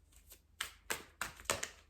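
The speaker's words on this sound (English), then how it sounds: "Just let me shuffle the deck real" Cards are riffled and tapped together in a few quick, crisp bursts, close up and fairly quiet, with no talking.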